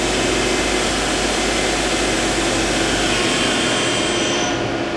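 A Mori Seiki SL-15MC CNC turning center with live milling runs its spindle at high RPM, giving a loud, steady broadband whir and hum that holds without pause, with no talk.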